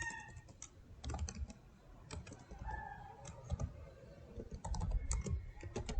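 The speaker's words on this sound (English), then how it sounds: "So we shall type our word" Computer keyboard typing, with irregular close clicks and key taps scattered through a quiet room, some in quick clusters.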